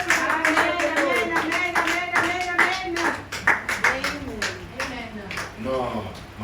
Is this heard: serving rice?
no